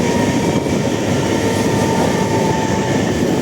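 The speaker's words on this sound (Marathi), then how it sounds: "ट्रेन सुटलेली आहे" A train rolls along in a steady, loud, close rumble, with faint rail clatter and a thin high whine throughout and no voices.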